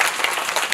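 Audience applause fills a cinema hall at a film screening event, a short burst of dense, steady clapping with no voices.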